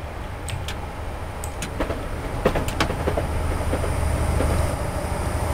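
Passenger train running on rails in Train Simulator 2018, a steady rumble and rolling wheel noise with clickety-clack joint clicks at irregular intervals, moderately loud throughout and with no voices.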